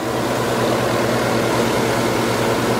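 A steady, continuous car engine idle with a low, even rumble and faint periodic pulsing, no knocking or ticking, close by and with no voices.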